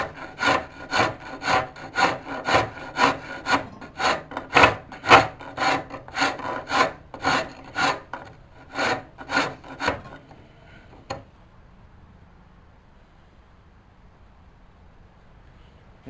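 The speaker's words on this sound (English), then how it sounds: "I have to make sure I don't drag the rasp back, otherwise it will have blow up on the outside" Wood rasp filing a wooden Morris chair part in one-directional strokes; about twenty rhythmic, close rasping strokes roughly every half second, then stopping with near silence for the last few seconds, no talk.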